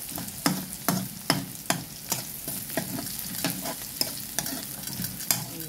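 Sweet and spicy shrimp cooking in a pan, steady sizzling broken by a run of sharp, rhythmic spatula scrapes and taps, close and fairly loud.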